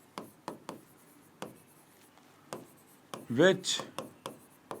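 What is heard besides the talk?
chalk or pen writing on a board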